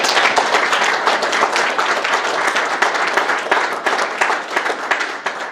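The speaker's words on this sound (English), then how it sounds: "another round of applause for all our outstanding students" Sustained audience applause fills a student-of-the-month award presentation, dense steady clapping from a sizable crowd with no voices over it.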